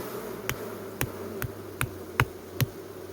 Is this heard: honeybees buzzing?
yes